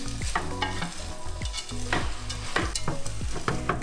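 Glutinous oil rice mixture with sugar and white pepper stirred in a pan, a utensil scraping through it in steady repeated strokes, close and clear with no voices.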